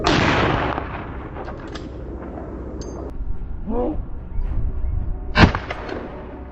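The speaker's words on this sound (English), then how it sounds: "Soon after, gunshots rang out," A couple of sharp gunshots ring out, a booming blast at the start and a loud crack near the end, with rustling and movement between.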